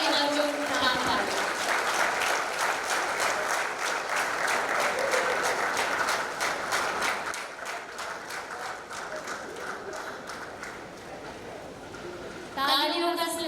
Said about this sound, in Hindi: तालियों का सिलसिला जारी रहे।